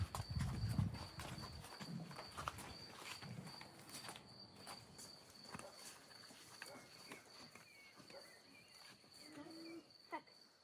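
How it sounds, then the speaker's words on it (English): Crickets chirp faintly at sunset in a Carpathian village, a thin steady high trill running throughout, with a few hoof-like clops and scattered knocks early on. "Birds singing are changed by crickets talking."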